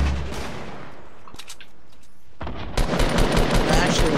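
Weapon fire from a grenade launcher in the video game Fortnite, a quiet stretch breaking into a loud, dense burst of rapid shots and blasts over the last second and a half.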